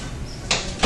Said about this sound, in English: here I'll close the door.